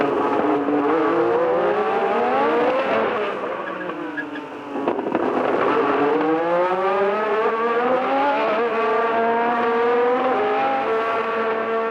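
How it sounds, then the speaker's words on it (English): A Renault Formula 1 car screams around a circuit, engine rising and falling through gear changes, loud and close with a brief dip as it lifts off before revving hard again. "The two Renaults have the circuit to themselves here"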